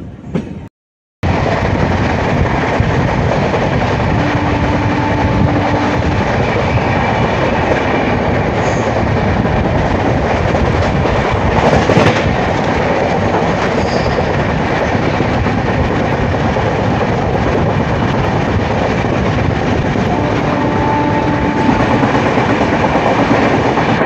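Bengaluru–Kamakhya AC Express rolling along the rails, a loud continuous rumble and roar of the train in motion with faint rhythmic wheel clatter, heard from on board after a brief quiet start, with no talk.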